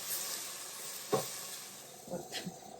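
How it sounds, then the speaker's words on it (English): Spaghetti sauce simmers in a pan with a soft, steady sizzle, broken by a few clinks and scrapes of a spoon stirring it. "let that simmer for a second, okay?"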